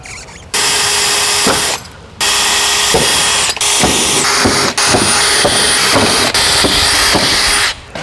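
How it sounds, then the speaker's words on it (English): A power drill with an 8mm bit pre-drills holes in a 2021 Hyundai i30N hatch during splitter installation, running in loud sustained bursts, stopping and restarting a few times, with clicking and ratcheting between the runs. "use our 8mm drill bit to start pre-drilling some holes"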